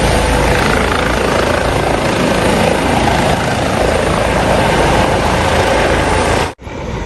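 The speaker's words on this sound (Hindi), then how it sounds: "मेरे पीछे एक हेलीकॉप्टर खड़ा है और ये हेलीकॉप्टर जो है इमरजेंसी सर्विसेज का है। ये अभी अभी लैंड हुआ है" An emergency-services air ambulance helicopter just landed in Manchester, its rotor and turbine roaring loud and close in a steady, unbroken wash of noise, briefly cut off near the end.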